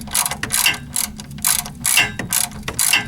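A ratchet turning a 14mm socket to tighten an engine oil drain plug, a steady run of sharp clicking bursts repeated in short strokes, close and loud with no voices.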